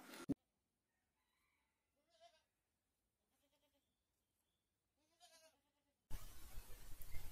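A goat bleats a few times, faint and spaced apart, in near silence before a burst of louder noise at the end.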